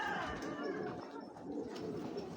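A pair of black Sapchila Giribaz pigeons, tail-clipped game-flying birds, coo softly beneath steady background noise, with a brief voice mixed in.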